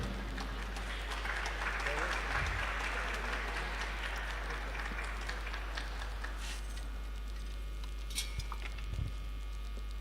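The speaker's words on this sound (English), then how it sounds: "Please a round of applause for this very beautiful lady." Audience at a youth summit and International Youth Day celebration in Nigeria applauds a speaker called to the lectern: a steady, dense wash of clapping that carries through the whole stretch with some crowd noise mixed in.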